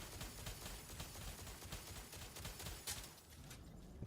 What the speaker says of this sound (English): I'm just going to fucking stand here and shoot 3 mags at his knee